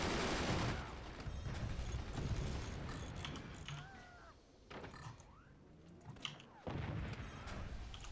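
Machine gunners firing in the multiplayer fort-building game Forts, with a dense, continuous rattle of gunfire and mechanical clatter, broken by a brief lull and then renewed bursts, fairly loud and close.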